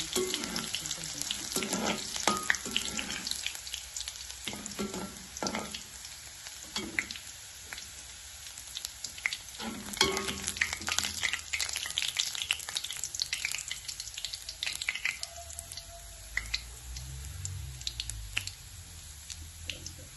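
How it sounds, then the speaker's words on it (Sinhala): Garlic fries in hot oil for a banana pepper stuffing, giving a steady close sizzle and crackle throughout with occasional stirring scrapes and pops. "සුදු ලුණු ටික දාන්න. ඒක රාමයෙන් පාට එකක් බැදෙන්න ඕනේ නේ."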